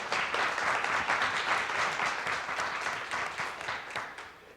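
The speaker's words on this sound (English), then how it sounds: "We could clap for him right now as well." A board meeting audience claps for a guest who has just stood up, a steady wash of many hands filling the room for several seconds and tapering slightly at the end.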